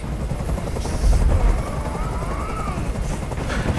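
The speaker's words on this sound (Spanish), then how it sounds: "¡Haz que ese helicóptero se vaya!" A helicopter in the video game Detroit: Become Human drones as a constant loud roar, with steady rotor chop and a low rumble swelling briefly about a second in.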